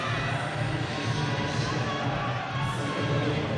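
A steady wash of crowd noise rises as climber Tomoe Narasaki comes out at the 2017 IFSC Bouldering World Cup semi-finals in Hachioji, Tokyo, with cheering and applause blending into a continuous roar at moderate distance.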